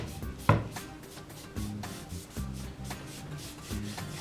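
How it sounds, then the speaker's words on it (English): A cheap foam brush spreads General Finishes gel stain on a mid-century lamp, with blue shop towels wiping off the excess, making soft, repeated rubbing and scrubbing strokes up close, with no talk. "I'm brushing on the stain using a cheap foam brush and then wiping off the excess using blue shop towels from Harbor Freight"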